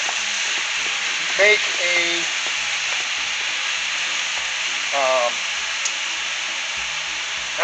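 Fajita beef browning in a hot pan, a steady faint sizzle and hiss running throughout, with a few brief stirring scrapes and short bits of speech over it.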